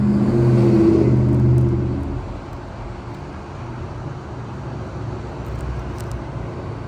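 Dodge Hellcat V8 exhaust rumbling through its headers, a deep steady idle that swells louder for the first couple of seconds, then settles into a lower, continuous throb close by.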